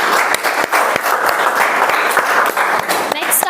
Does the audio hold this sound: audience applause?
yes